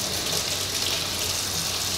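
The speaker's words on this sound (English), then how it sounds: "So I'm gonna turn the water on here." A kitchen faucet runs water into a sink while rinsing chicken thighs, a steady close rushing hiss without pause or talk.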